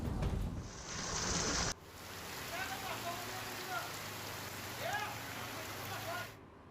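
Heavy rain falls in Modasa city, with water running through the streets like rivers. It makes a continuous broadband wash of rain on hard surfaces, fairly faint, with a brief louder stretch at the start and faint chirping sounds over it.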